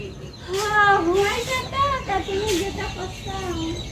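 Chickens cluck and call near a rural home, several bursts rising and falling across a few seconds while people talk close by.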